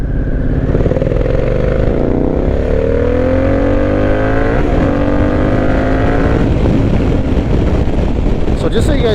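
A 2022 Harley-Davidson Pan America Special motorcycle accelerates hard along a busy highway in road mode, its engine note climbing through several gears with loud wind rush throughout, up close and steady for the whole stretch.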